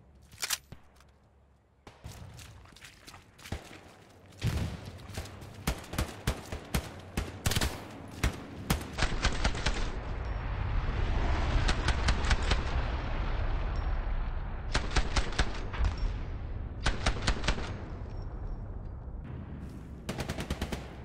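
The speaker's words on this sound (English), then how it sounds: "Enemy machine gun here." Bursts of machine gun and rifle fire crackle through a World War II battle in Hell Let Loose, with dense rapid volleys in the middle and sharper separate shot clusters before and after, loud and close.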